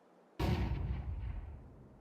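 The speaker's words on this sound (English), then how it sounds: "Deploying flashbang." A flashbang grenade in Counter-Strike 2 goes off with a single loud, sharp bang that rings out and decays over about a second and a half.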